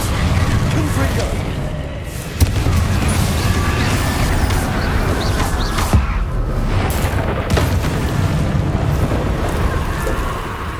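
Confringo blasting spells exploding in Hogwarts Legacy, loud booming blasts with sharp bursts near 2.5 and 6 seconds over a constant rumbling battle din.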